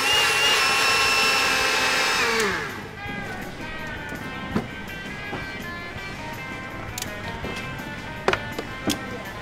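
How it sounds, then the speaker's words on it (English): Blender whirring through vegan crepe batter, a loud steady motor whine for the first couple of seconds that then cuts out, leaving quieter clatter and a few sharp knocks. "you just blend everything together for at least 45 seconds to a minute to make sure everything is really incorporated"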